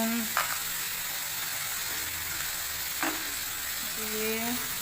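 Potatoes and onion fry in a pan with a steady, close sizzle, broken by a few brief scrapes of stirring.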